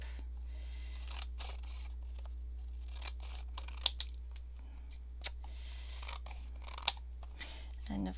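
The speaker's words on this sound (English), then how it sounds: "It's just faster for me to just use my scissors." Scissors cut paper to make faux front envelopes: a series of crisp, irregular snips and a few sharper clicks, quiet and close, over a faint steady hum.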